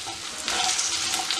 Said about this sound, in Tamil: கொஞ்ச நேரம் வண்டிக்க வதங்கட்டும்.